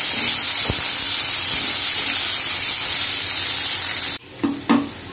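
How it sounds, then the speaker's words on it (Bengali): Two medium chopped onions fry in mustard oil with bay leaves in a hot pan, giving a loud, steady close-up hiss that cuts off abruptly, followed by a couple of short stirring clatters. "এর মধ্যে দিয়ে দেব 2টো মিডিয়াম সাইজের পেঁয়াজ কুচি, দিয়ে খুব ভালো করে ভেজে নেব"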